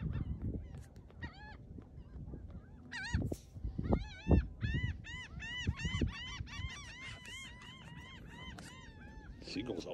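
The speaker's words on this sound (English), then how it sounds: "Seagulls are loud." Gulls calling on a beach at Crab Bank, a run of harsh, repeated honking cries that come fast and overlapping, close and loud over low wind and shoreline rumble.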